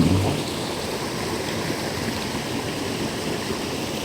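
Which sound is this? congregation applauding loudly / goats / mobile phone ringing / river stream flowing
river stream flowing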